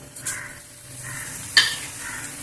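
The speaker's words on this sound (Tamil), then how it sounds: "எண்ணெய் சூடாயிடுச்சு. அதில் கடுகு, உளுத்தம்பருப்பு, கடலைப்பருப்பு போட்டுட்டு மிளகா வெத்தல் போடுறோம்." Mustard seeds, urad dal, chana dal and dried red chillies crackling in hot oil in a pan, a soft continuous sizzle with a few faint pops and one sharp clink near the end, heard up close without voices.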